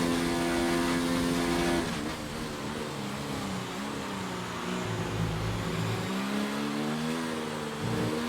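Racing cars in a racing video game at the Brazil circuit roar continuously nearby, engine pitch rising and falling as they accelerate and shift, with no talk over it.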